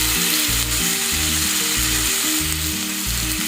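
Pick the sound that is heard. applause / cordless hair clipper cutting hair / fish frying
fish frying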